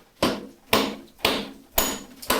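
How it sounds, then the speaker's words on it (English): Five evenly spaced sharp knocks of a rubber mallet striking the metal rear axle of a Harley Sportster, each ringing briefly before fading, close and fairly loud. "Take your favorite rubber mallet"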